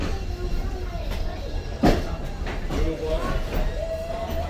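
Steady rumble and rattle of a moving museum train carriage at the Ohio Railway Museum in Columbus, with a sharp clunk partway through and people talking over the ride.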